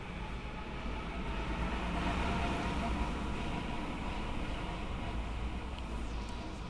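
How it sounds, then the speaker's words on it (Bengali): A steady, loud rumbling roar of a video game train arriving, in Indian Bike Driving 3D, with a continuous low drone and rattling texture throughout, no clear pauses. "ট্রেন, মানে ট্রেন আসবে, এসে আমাকে উঠাবে, উঠে আমি যাব ট্রেনের সাথে সাথে।"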